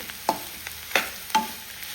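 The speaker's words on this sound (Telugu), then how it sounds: "ఇప్పుడు ఇది వేయించుకుందాం, పచ్చి వాసన పోయేదాకా వేయించుకుందాం." Grated ash gourd fries in ghee with a soft, low sizzle, punctuated by three brief scraping strokes of a spoon stirring the pan.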